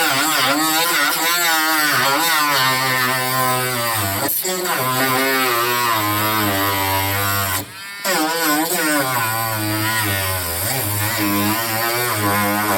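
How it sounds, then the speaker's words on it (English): A small handheld Dremel rotary tool cuts through the frame of an old broken tumbling composter, giving off a loud, steady, high-pitched motor whine that wavers in pitch and cuts out briefly midway. "So right now I've got to cut off this junk and get that out of the way. So I got my little Dremel out for that."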